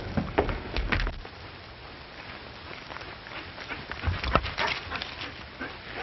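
A dog moves about close by with scuffling, a few soft whimpers and panting-like bursts over a muffled noisy background, with no clear barking.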